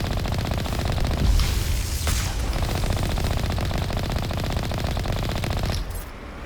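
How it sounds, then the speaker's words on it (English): Rapid, continuous heavy gunfire from a tank weapon in the sci-fi game Mass Effect, a dense dull rattling that runs nearly unbroken for about six seconds before cutting off. "for a tank, this fires a lot slower than it should"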